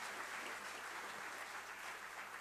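An audience in the National Assembly applauds with a continuous, fairly faint patter of clapping hands that holds steady throughout.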